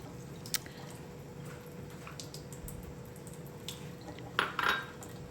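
Chicken pakora batter mixed in a bowl, with faint wet squishing and a few light clinks of utensil against the bowl, quiet and close, no talking.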